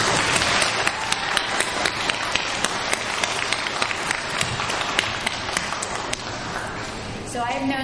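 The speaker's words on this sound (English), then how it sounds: "So I would like us to start by giving a round of applause, students, to all of your parents." Graduating students at a sixth-year graduation ceremony give their parents a round of applause, dense steady clapping filling the room with sharp individual claps standing out, continuous and loud until it thins near the end.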